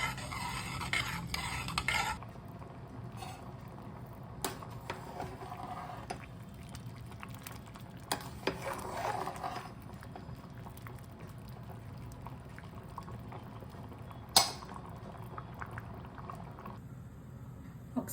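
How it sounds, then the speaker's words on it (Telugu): Coconut rice is stirred and mixed in a pot on a stove, giving soft scraping and wet sloshing strokes in irregular bursts, with bubbling liquid beneath and a few sharper clinks of a utensil against the pot. "ఇవన్నీ ఒకసారి కలిపి స్టవ్ పైన పెట్టి ఉడికించుకుందామండి రైస్ని."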